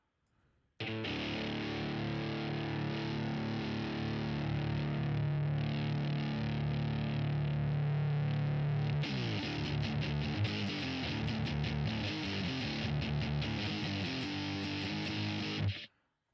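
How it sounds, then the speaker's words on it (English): A heavily distorted electric guitar through a GarageBand amp simulator plays a sustained, buzzy chord, then switches to a choppier strummed pattern, loud and saturated throughout before cutting off. "But the distortion sounds like ass."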